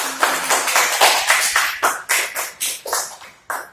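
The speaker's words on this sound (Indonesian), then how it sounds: "Ayo tepuk tangan dulu untuk Resti." A classroom of students claps for a classmate in short, uneven bursts of hand claps that rise and fade several times, close and fairly loud, with no talking over it.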